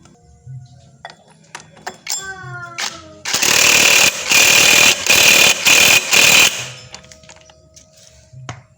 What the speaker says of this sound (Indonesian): Lalu pasangkan murnya, dan setelah itu kita kencangkan.